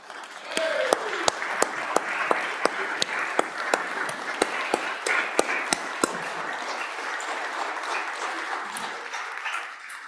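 Applause on a state House floor for the doctor of the day fills the room as a steady wash of clapping, with sharp individual claps cutting through. The applause runs throughout, loud and near, with light murmuring beneath.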